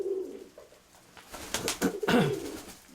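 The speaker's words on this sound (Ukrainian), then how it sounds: "Це старий голуб оце злетів." An old pigeon coos softly, then a burst of wing flaps as it takes off nearby, followed by another short coo.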